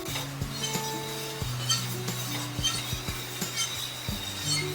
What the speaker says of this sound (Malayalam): ഞാൻ ഇളക്കിക്കൊണ്ടിരിക്കുന്നുണ്ട്.